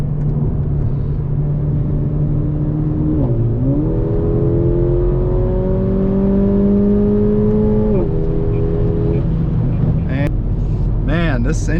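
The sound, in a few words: turbocharged car engine accelerating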